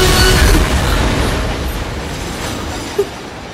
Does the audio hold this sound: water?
no